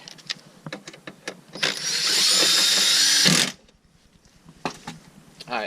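A power tool with a long socket whirs for about two seconds while reinstalling a part in a Mazda RX-8 engine bay, between clicks, clanks and quiet handling noise.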